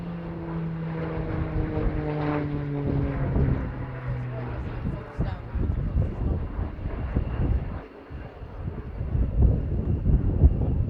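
A Tucano turboprop training aircraft flying a display at the RIAT 2019 airshow drones steadily with a shifting engine tone as it passes, under continuous commentary from an announcer, with wind noise in the background.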